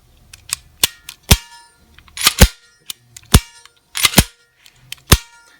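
A SCCY pistol being dry fired with a short stroke trigger kit: sharp metallic clicks of trigger pulls and slide racks, several distinct snaps spaced irregularly over a few seconds, close and loud with no talk.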